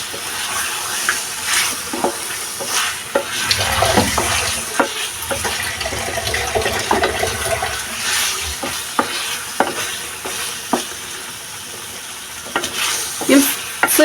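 Eggs stirred into tomato gravy in a pan for a Kashmiri tomato and egg dish, with a steady sizzle and repeated scraping stirs of a spoon, plus a brief watery splash partway through.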